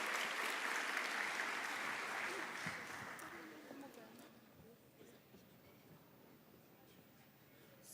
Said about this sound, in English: let us give them a round of applause as they prepare the performance